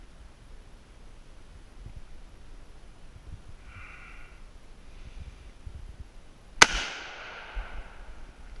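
A single sharp gunshot cracks out at a shooting range, fired toward a target through weeds, with a long decaying echo trailing behind it in otherwise quiet outdoor air.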